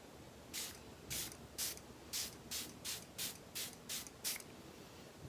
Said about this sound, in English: Let's spray it on.